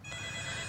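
A mobile phone rings with a bright electronic tone that sustains through the brief moment, fairly close and clear over a low background hum, without speech.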